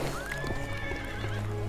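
A horse in the video game Dark Messiah of Might and Magic gives a loud, close whinny with a rising then falling pitch, alongside soft clip-clop of hooves.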